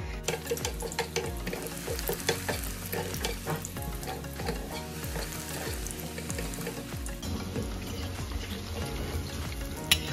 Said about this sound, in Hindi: अब इसमें पकौड़े तलेंगे